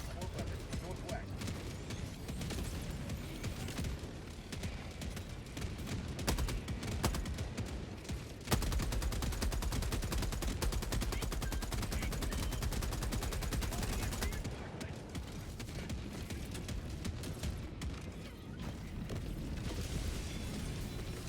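An automated sentry turret in Helldivers 2 keeps up long, rapid bursts of mechanical gunfire with clattering action noise, steady and moderately loud, broken by a brief lull partway through.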